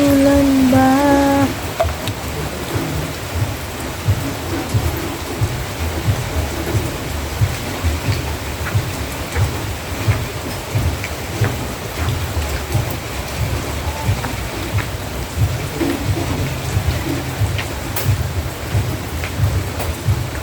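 Steady rain falling outdoors in a rural province setting, a continuous dense hiss with low rumbling underneath that may be distant thunder, heard alone throughout.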